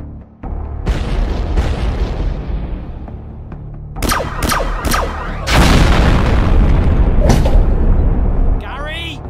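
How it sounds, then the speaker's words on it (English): A grenade launcher explosion in the Zcore Chronicles video game: a deep boom followed by several sharp blasts and a long rumbling roar, with voices shouting around and between the bursts. "Grenade launcher!"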